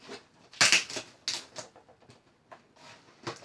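A blade cuts open a cardboard shipping box, giving sharp, irregular scraping and tearing bursts with short pauses between, close and fairly quiet.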